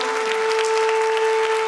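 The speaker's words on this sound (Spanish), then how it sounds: "¿Por qué no le damos una ofrenda de palmas al Señor?" A church congregation claps together in praise to the Lord, a lively, sustained round of clapping with two steady tones ringing over it throughout.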